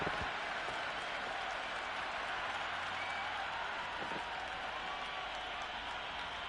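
A cricket crowd applauding during an India vs South Africa T10 match, with sustained clapping and crowd roar from a large stadium audience, steady and at a moderate distance throughout.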